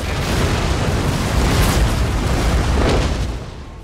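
Gunpowder and rocket explosions from the Empire Total War video game make a loud, continuous rumbling roar of overlapping booms that swells midway and then fades toward the end.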